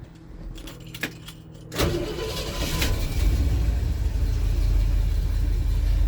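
Keys jangle before a 1976 Ford F150 4x4 pickup engine cranks and catches, then settles into a steady, growing rumble nearby.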